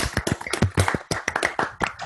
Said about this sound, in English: Zoom claps.